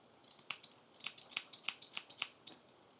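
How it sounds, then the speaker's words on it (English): A mini pair of garden snips opens and closes repeatedly, producing a quick series of faint, crisp metallic snips and clicks close up, in an uneven rhythm with no talk. "It's obviously just a mini pair of snips."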